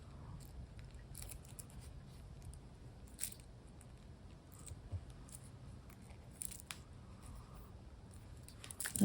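Small snips of a cutting tool trim twisted wire ends on a button heart craft, with several quiet, sharp clicks spread irregularly over a faint, hushed background.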